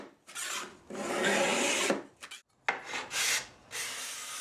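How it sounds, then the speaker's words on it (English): A metal file swiped in several bursts along the edge of a steel card scraper to raise a burr, giving close, dry rasping strokes separated by short pauses. "But a few swipes with the file and you should be back in business."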